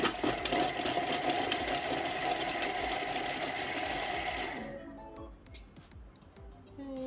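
A Thermomix blade chops shallots with a steady, loud whirring buzz for over four seconds, then cuts out, leaving quieter clatter and faint tapping.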